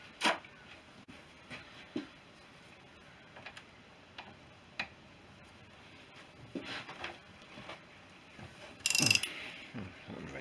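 A ratchet wrench working the crankcase bolts on a BSA B31 motorcycle engine: faint, sparse clicking and ticking at irregular intervals, with a brief louder metallic scrape near the end, in a quiet room without speech.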